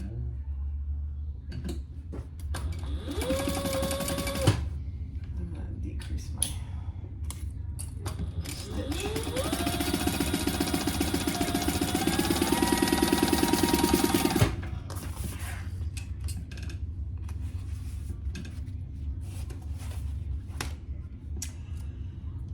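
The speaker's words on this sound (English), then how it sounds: "we're going to sew that at the seam allowance in the pattern" A sewing machine stitches a seam on a slim duffle bag in two bursts of rapid whirring motor and needle chatter, rising in pitch as it speeds up, separated by quieter pauses with faint handling noises.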